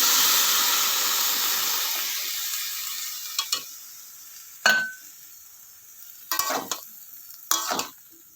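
Food dropped into hot oil in a karai wok gives a loud sizzling hiss that slowly dies down, followed by several sharp scrapes and clinks of stirring against the metal pan.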